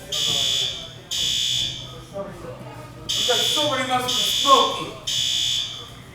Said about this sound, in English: No, it's just some bullshit fire alarm.